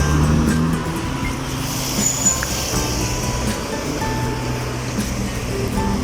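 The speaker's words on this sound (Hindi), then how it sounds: "एक गाड़ी भी आ रही है" A car approaches along a street by a bus stop in Padua, Italy, a steady engine and tyre rumble amid ambient traffic noise, fairly close and continuous.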